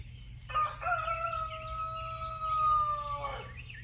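A rooster gives one long, clear crow close by, rising and holding its drawn-out call for about three seconds against a quiet background.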